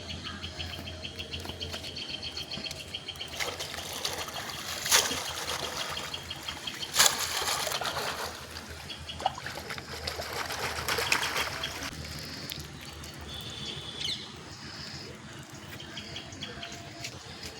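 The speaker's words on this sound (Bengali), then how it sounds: "আমি এবার পুকুরের জলে আমি ধুয়ে নেবো" Taro stolons are rinsed in a pond, with water splashing and trickling in uneven bursts over a steady outdoor bed of chirping crickets and occasional birds.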